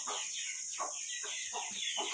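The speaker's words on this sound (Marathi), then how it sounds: "हे बघा, त्याने दरवाजा ठोकला आणि कोंबडी आतमध्ये आली, सर्व आली।" Chickens coming indoors cluck in a run of short, repeated calls at an even rhythm, close by and fairly quiet over a constant high background hiss.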